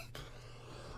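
One short, harsh cough bursts out near the start, then a fainter catch of breath follows, heard close against a low background hum.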